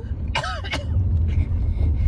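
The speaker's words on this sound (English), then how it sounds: "Mum's coughing on them." A person coughs once or twice up close, a short rough burst over the low rumble of a car interior.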